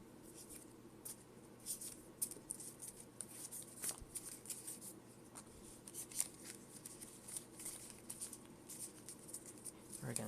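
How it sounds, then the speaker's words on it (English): Pokemon trading cards are cut and re-cut by hand to shuffle the deck, giving soft, close papery flicks and rustles that repeat irregularly at low volume. "I am going to shuffle by just cutting and cutting and cutting."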